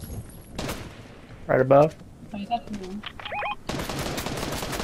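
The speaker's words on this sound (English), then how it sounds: "I heard a shot." Gunfire from the video game Fortnite comes in a short burst of loud, close shots amid a sparse game soundscape, followed by a denser stretch of rapid firing, while a player speaks briefly.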